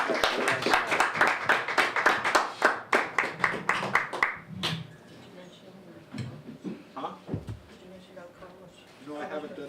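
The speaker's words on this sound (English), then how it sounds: "Give her a nice round of applause, please." A small audience at a poetry reading gives brisk, close applause of distinct hand claps for about four seconds, then it fades out and someone talks.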